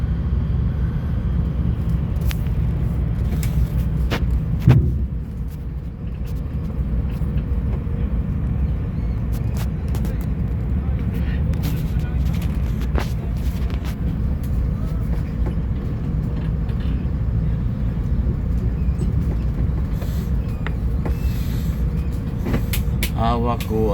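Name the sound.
riding inside a bus on the road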